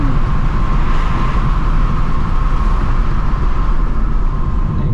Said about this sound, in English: That crazy ass road noise